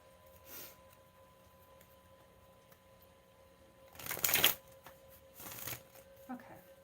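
A deck of cards is shuffled in two short, crisp riffling bursts close to the microphone, with quiet pauses and faint room noise between them.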